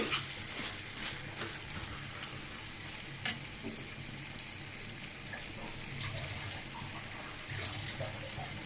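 A little water poured into a hot pot of broiler chicken curry, giving a steady hiss and sizzle with light stirring scrapes, close by and continuous, with no talking.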